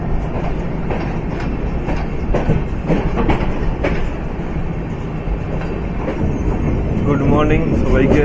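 A Mahima Gosain Express passenger train runs steadily on rails toward Talcher, its loud continuous rumble and faint clatter filling the whole stretch with no pauses.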